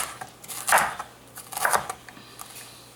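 Knife slicing a red vegetable into thin pieces on a board for turkey dressing, two brief crisp cutting strokes with softer scrapes between them, close and clear.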